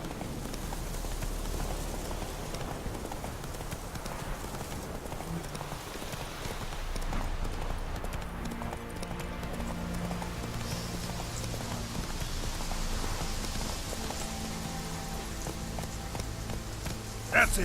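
Roach the horse from The Witcher 3 clip-clops steadily across ground, hooves thudding in an even gallop-like rhythm under game music and ambient noise, with a faint patter like rain in the background.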